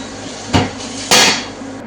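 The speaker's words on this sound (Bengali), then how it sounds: "এখন আমি এটাকে অন্য একটা পাত্রে ট্রান্সফার করে দিচ্ছি।" Freshly cooked minced meat for chili con carne being moved into another pot, with two sharp metallic knocks of a utensil against cookware, one light and one louder and longer scrape-like clatter, close up.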